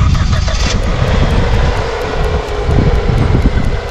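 A Hyundai Solaris under repair after hitting an animal has its engine cranked and started, a loud roaring rumble with a broad rushing noise that stays dense and close throughout.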